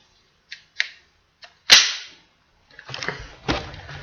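A firearm being cocked and slam-fired, a gun in need of cleaning and oiling: a few light mechanical clicks, then one sharp loud crack, followed after a pause by a flurry of rattling metallic action noises, close and dry.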